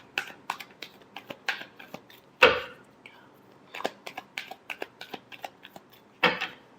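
Tarot cards are shuffled by hand: a quick run of soft clicks and flicks, punctuated by two louder riffling snaps, close and quiet.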